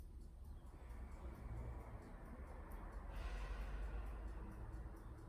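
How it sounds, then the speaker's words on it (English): Slow, deep breathing during a morning yoga routine: a soft, airy inhale swells into a longer exhale, close but faint against a low background rumble, with no talking. "Just take a deep breath in and let it out."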